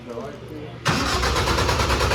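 A car engine on a dyno cranks and catches at once, settling into a steady loud idle after a short stretch of quieter background noise.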